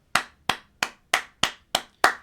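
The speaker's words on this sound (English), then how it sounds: "Round of applause for Zubimendi" Seven sharp, evenly spaced hand claps from a single person, close and crisp with quick decay, standing alone without voices.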